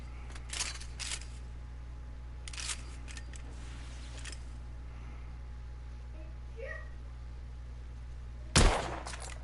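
A single sharp gunshot rings out near the end from a test-fired pistol in The Order: 1886, after a few earlier faint clicks and handling sounds over a steady low hum.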